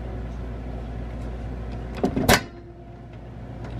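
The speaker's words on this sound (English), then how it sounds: "Open the door." A Furrion microwave door pops open with a short, sharp mechanical clunk and rattle partway through, against a steady low hum of background noise.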